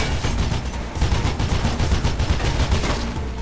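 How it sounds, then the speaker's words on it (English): Assault rifle fire in the video game Mirror's Edge: a sustained, dense rattle of rapid automatic shots, loud and continuous with no speech. "I take your assault rifle."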